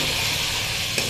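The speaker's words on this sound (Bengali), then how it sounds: "এটা দিয়ে আমি হালকা একটু নাড়াচাড়া করে নেব" Sweet pumpkin and shrimp curry being stirred in a frying pan, giving a steady close sizzle and hiss with faint scraping throughout and a brief brighter burst near the end.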